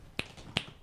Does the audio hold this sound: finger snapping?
yes